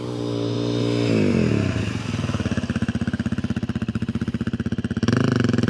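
Adventure motorcycle braking hard on the front brake during rider skills training in South Australia: engine revs drop from a steady drone into a slow, lumpy, pulsing idle, then pick up again, close and loud.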